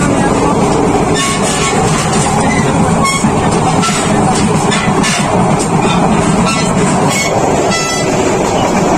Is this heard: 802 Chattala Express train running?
yes